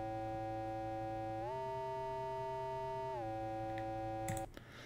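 A steady synthesizer tone with rich harmonics in LMMS glides up in pitch with a note slide, holds, then slides back down, ending with a few clicks.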